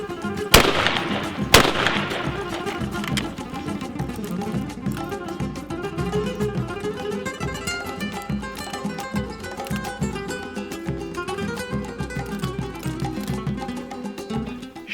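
Two loud, sharp reports from a 20 gauge shotgun being fired with reloaded hulls, the first near the start and the second about a second later, followed by steady music with no talking.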